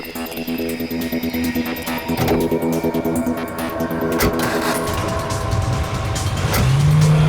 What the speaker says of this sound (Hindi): बहुत भगा रहा है गाड़ी। देखते कहाँ तक भगाता है ये।